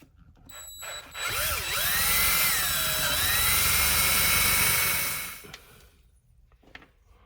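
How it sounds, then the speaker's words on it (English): A power drill whirs for several seconds as it bores a hole into a kayak's cavity, its pitch dipping under load, then spins down and stops, followed by quiet handling noises. "Go ahead and drill a hole all the way into the cavity there."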